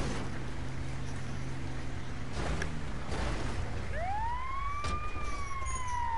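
An ambulance siren in a video game, GTA 5 on PS4, wails, rising and sweeping in pitch over steady engine and traffic rumble, loud and close, with no talking.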